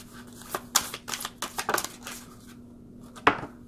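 Oracle cards are shuffled by hand, giving a series of quick papery riffles and slaps in uneven bursts, close and moderately loud, with a quiet pause before one final sharp flurry.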